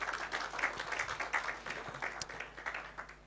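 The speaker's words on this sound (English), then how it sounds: "Let us clap for him" Applause from a crowd at a Nakuru County breakfast meeting, steady clapping sustained for a few seconds at moderate volume, with no voices over it.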